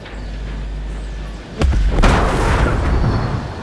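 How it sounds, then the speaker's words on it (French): An explosion in the video game Ghost Recon Breakpoint: a sudden heavy boom about midway, a second blast right after, then a loud rumbling roar that slowly fades. "C'était pas nécessaire l'explosion"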